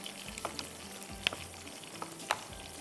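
Keema fries with tomatoes and masala over a high flame, giving a soft continuous sizzle broken by a few sharp spatula scrapes and stirring clinks.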